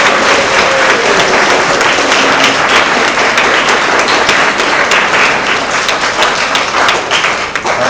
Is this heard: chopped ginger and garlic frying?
no